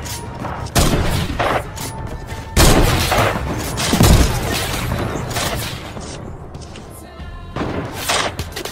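Gunfire in a sniper video game: several sharp, booming shots spaced a second or two apart, with lingering crackle and rumble between them.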